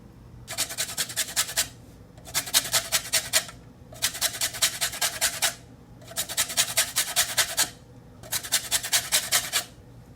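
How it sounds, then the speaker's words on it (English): A lime is grated for Jamaican rum Christmas cake batter, with five close, evenly spaced bursts of rapid rasping strokes separated by short pauses. "The next thing you're going to do is grate a lemon or a lime."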